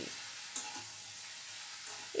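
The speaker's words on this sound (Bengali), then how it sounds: "লঙ্কাগুলো একটু ভাজা ভাজা হয়ে আসলে কুচনো চাল কুমড়ো দিয়ে দিয়েছি" Chopped ash gourd and slit green chillies fry quietly in a spice tempering for a shrimp and ash gourd ghonto. A low, even sizzle carries a couple of soft stirring taps.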